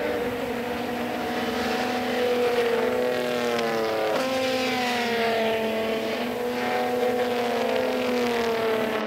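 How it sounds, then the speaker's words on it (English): Saloon cars race in a pack at CARCO.com.au Raceway in Western Australia, a dense, sustained roar of several engines holding high revs together, with pitch shifts as they crest a hill side by side. "Hoy watching on as cars go 2, maybe even 3 wide over the top of the hill"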